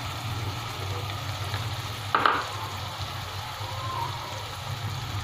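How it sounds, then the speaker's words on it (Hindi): Tomato paste fries with browned onions in a pan, giving a quiet, steady sizzle with one brief clatter of a utensil partway through. "अब मैं इसमें ऐड कर दूँगी ये टमाटर का पेस्ट।"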